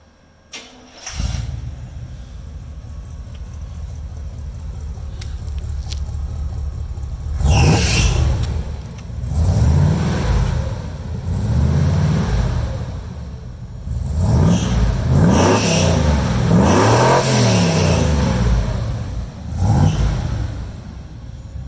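A K10 truck engine cranks and starts, then idles with a deep burbling glass pack exhaust before several loud revs rise and fall, close and prominent.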